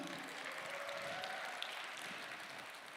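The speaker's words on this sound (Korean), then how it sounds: "우리 회장님한테 박수 한번 부탁드립니다." Sustained applause from a church audience, dense and even clapping throughout, moderately distant.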